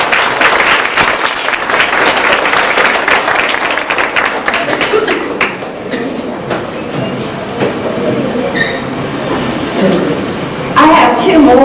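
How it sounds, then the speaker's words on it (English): Dense crowd applause at a school awards ceremony fills the space, steady and loud, thinning slightly before swelling again near the end. "we need to give them a big round of applause."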